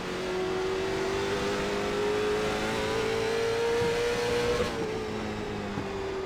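Late model stock car engines racing at Hickory in the iRacing video game, a sustained mid-pitched engine drone with a slowly rising tone as the car holds throttle, steady and fairly loud with no talk.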